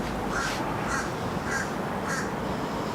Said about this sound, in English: Do you hear the crow bird?